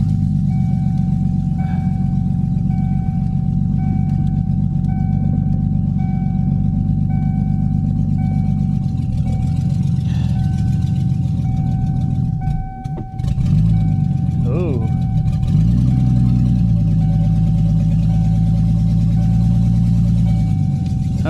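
Engine of a 1991 Mercury Cougar idling steadily as the car rolls backwards, a continuous low hum with a brief dip midway, followed by a short rise in revs near the end.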